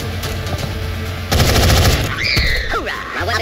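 Rapid automatic gunfire in XCOM: Enemy Unknown during an alien abduction mission in China, a loud close burst of rattling shots followed by sweeping energy-weapon whines and impacts.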